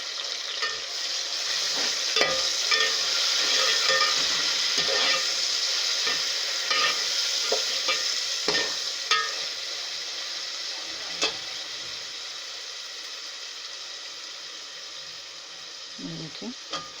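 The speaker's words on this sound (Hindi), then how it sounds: "अब इसमें मैं अदरक लहसुन का पेस्ट डाल रही हूँ।" Chopped onions with ginger garlic paste sizzle and fry in a pan for a minced-meat curry with peas and potatoes, with steady close crackling broken by scattered knocks and scrapes of a spoon stirring, no talk.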